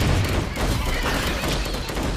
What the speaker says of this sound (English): let's drop a bomb on these